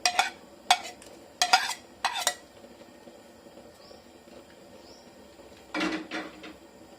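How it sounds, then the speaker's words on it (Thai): Mackerel going into a boiling pot of Thai fish-organ curry, a few sharp close clatters and splashes at the start, then a quiet simmer and one last louder burst of clinking near the end. "ใส่ปลาทูลงไปเลยค่ะ"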